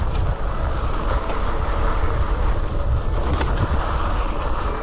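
A DUOTTS S26 electric bike accelerates under throttle alone with no pedalling, giving a steady, loud broadband rush of motor, tyre and wind noise that holds throughout with no talking.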